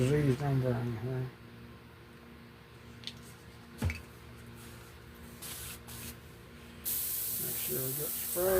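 An airbrush sprays diseased umber paint onto a Jason hockey mask, giving short bursts of soft hiss between quiet pauses and then a louder steady spray at the end, with someone talking briefly at the start.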